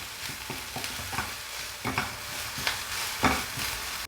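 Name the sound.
onions frying in oil being stirred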